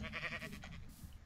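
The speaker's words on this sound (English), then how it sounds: "there's so many sheep" A sheep in the game Minecraft bleats in a short wavering burst near the start. A low background hum runs underneath and continues after the call fades.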